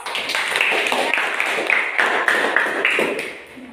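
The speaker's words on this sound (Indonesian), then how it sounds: "Sekali lagi kita berikan aplaus." Students clapping for a group that has just presented on the structure of the earth's layers in a classroom, a steady dense patter of many hands sustained for several seconds, close and fairly loud, tapering slightly at the end.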